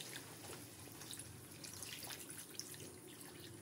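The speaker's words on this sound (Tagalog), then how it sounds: "lagyan na po natin siya ng tubig." Water pours from a 1.5-liter pitcher into a pot for lugaw, a soft, continuous splashing trickle with small drips, heard close and fairly faint.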